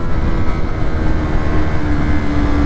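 Motorcycle engine running steadily after a downshift from fourth into third gear, a loud continuous low drone with a sustained tone, close to the microphone with no speech.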